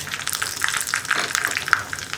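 Fenugreek seeds crackle and pop in hot oil for a sambar, a close, busy sizzle with scattered sharp spits throughout.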